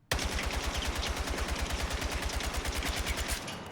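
Rapid automatic rifle fire at a shooting range in the video game Battlefield 6, a steady rhythmic burst of many evenly spaced shots lasting over three seconds, loud and close, ending with a short tail.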